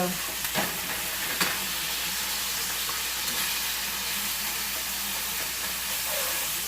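Seasoned pork chops sizzle in a hot pan with a loud, continuous frying hiss, broken by a couple of faint clicks and taps near the start.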